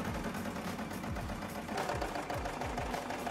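A sewing machine stitching the side seams of a garment, a continuous close rapid mechanical whirr with a fast repeating rhythm throughout.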